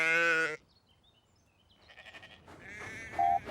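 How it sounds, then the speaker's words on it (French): Sheep bleat in a cartoon meadow: a strong harmonic bleat at the start, then quieter calls and a later pair of bleats over a soft background. "Et j'ai déjà compté ces moutons 5 fois."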